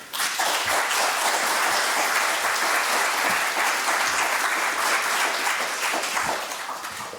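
An audience at an architecture lecture claps steadily to welcome the speaker, a dense, even wash of applause from a full room that keeps up throughout and tapers slightly at the end.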